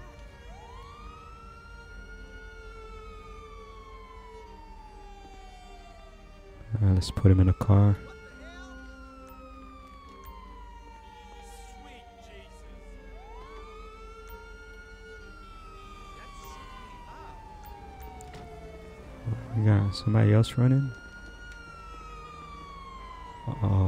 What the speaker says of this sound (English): let's turn off our siren